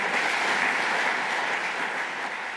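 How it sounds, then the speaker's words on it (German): Long, sustained applause from a crowd at a CDU Baden-Württemberg campaign event, a dense, even wash of clapping that holds steady and barely fades. "Lang anhaltender Applaus"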